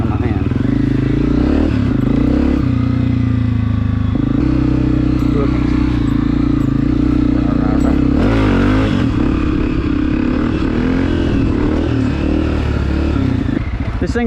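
A 2020 Honda CRF250F dirt bike is ridden close on a sloppy, rain-soaked trail. The single-cylinder engine roars loudly and continuously, its pitch rising and falling with throttle, along with occasional clatter.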